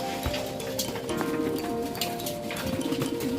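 Pigeons feed close by, giving soft coos and flutters over the scratchy tapping and shuffling of their feet, with scattered small clicks throughout.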